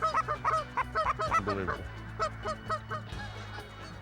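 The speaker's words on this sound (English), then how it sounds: "we had all those birds coming over the decoys" A flock of ducks and geese passes low over decoys, a dense chorus of repeated honks and quacks, close and loud, with a brief spoken exclamation in the middle.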